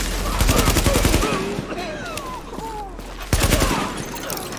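Gunfire rattles through a battle in the video game The Division, with loud dense bursts of rapid shots at the start and end around a quieter stretch, while voices talk underneath.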